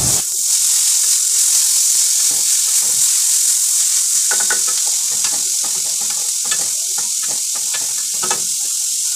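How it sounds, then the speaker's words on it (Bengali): Grated carrot, capsicum and onion fry in oil in a wok, a loud continuous sizzle and hiss broken by repeated clinks and scrapes of stirring, with no voices. "কড়াইতে একটু তেল দিয়ে তার মধ্যে দিয়ে দিয়েছিলাম গ্রেট করা গাজর, তারপর ক্যাপসিকাম, পেঁয়াজ, এগুলো দিয়ে একটু মানে একটু ভেজে নিচ্ছিলাম।"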